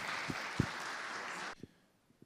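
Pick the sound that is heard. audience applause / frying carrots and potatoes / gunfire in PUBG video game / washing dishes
audience applause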